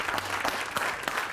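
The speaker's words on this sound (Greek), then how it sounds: "Ένα χειροκρότημα παρακαλώ." Studio audience applause on a Greek late-night TV talk show, a steady dense wash of clapping that holds at full level throughout, with no voices over it.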